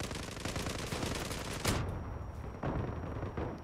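Rapid automatic gunfire rattles in a dense burst in the online shooter Zula, followed by a few separate sharp single shots after a brief pause, loud and close.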